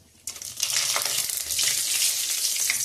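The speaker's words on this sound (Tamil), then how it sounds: "எண்ணெய் நல்லா காஞ்சது, கடுகு போடுறேன்" Hot oil bursts into a crackling sizzle as mustard seeds and whole spices hit the pan, starting suddenly and then holding as a dense, close, continuous frying hiss with scattered pops.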